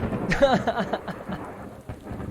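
Thunderstorm sound effect played during a tabletop role-playing game session, with rolling thunder and steady rain filling the whole stretch at moderate loudness and a rumbling crack near the start, no talk over it.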